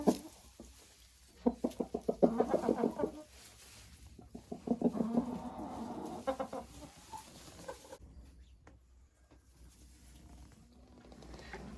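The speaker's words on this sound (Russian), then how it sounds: "Обстановочка в курятнике." Hens clucking in bursts inside a henhouse, rhythmic cackling rising and falling nearby, with quieter rustling and pauses between.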